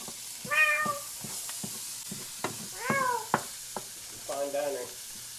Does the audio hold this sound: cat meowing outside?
yes